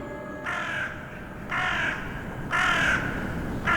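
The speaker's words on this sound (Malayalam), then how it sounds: "കാക്കയുടെ കരച്ചില്, കാ കാ കാ കാ എന്ന ശബ്ദം." Crow cawing at night, four harsh, evenly spaced caws about a second apart over a low steady background hum.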